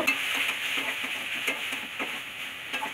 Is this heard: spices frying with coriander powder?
yes